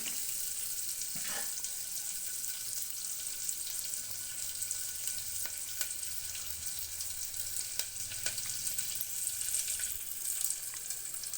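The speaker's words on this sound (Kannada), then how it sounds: "ನೋಡಿ, ಇವಾಗ ಒಗ್ಗರಣೆ ಆಗಿದೆ" Spices temper in hot oil for Karnataka-style bisi bele bath, giving a steady, even sizzle and crackle that fills the whole stretch with a few sharp pops.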